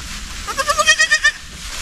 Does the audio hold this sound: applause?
no